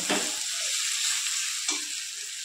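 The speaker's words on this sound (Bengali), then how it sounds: "এবার আমি ভালো করে কষিয়ে নেব।" Fish roe with cumin and chilli powder sizzling in a pan as it is stirred, a steady close frying hiss broken by a couple of scraping stirs.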